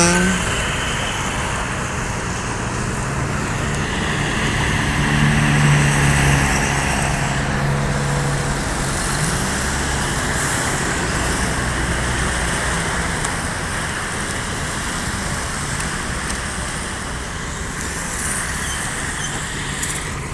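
Steady road traffic on Soekarno-Hatta street the day before Lebaran, with cars and buses passing in a continuous broad roar and low engine rumble, no talk.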